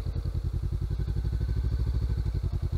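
A motorcycle engine chugs close by in low gear, a steady, rapid rhythm of deep thumping pulses with a faint mechanical clatter and no rise in revs.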